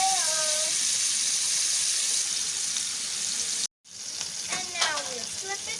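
Adana kebab frying in oil in a pan, a steady close hiss of sizzling with a brief cut partway through, followed by a few light clinks and movement sounds as frying continues.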